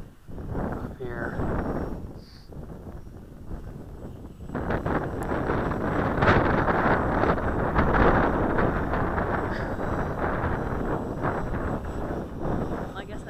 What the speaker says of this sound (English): I guess I didn't realize it was gonna be quite this windy